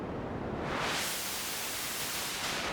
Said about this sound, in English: here is the pink noise.